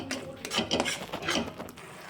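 A spoon stirs Gujarati sambhariya vegetable curry in a pot, with scraping and clinking of utensil against metal in a few uneven strokes, close and moderately loud.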